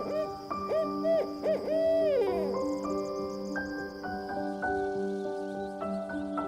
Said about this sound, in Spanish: El búho barrado es otro habitante de los bosques de las Montañas Blancas, conocido por su llamado profundo y repetitivo